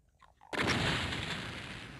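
Exploding barrel blast in the video game Ultimate DOOM: a sudden loud, broad explosion bursts in after half a second of quiet, then a dense rumbling roar that slowly decays.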